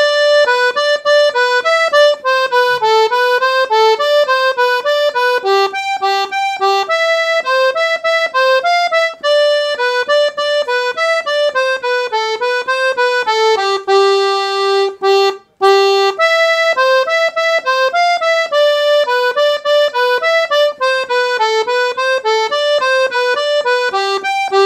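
Piano accordion plays a Brazilian forró melody, the C section of a tune with its repeat, as a steady, bright right-hand line of quick rhythmic notes without accompaniment or talk, loud and close throughout.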